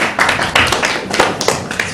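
Audience applause at a comedy show, a crowd clapping in dense, steady bursts with rising swells, loud and close, no talking over it.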